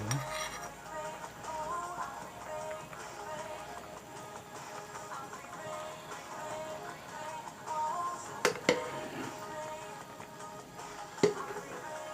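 Utensil scraping and clinking in a pot while braised chicken with Danyang garlic, potatoes, carrots and chunjang is stirred, a steady low clatter with a few sharper knocks near the end and faint kitchen background.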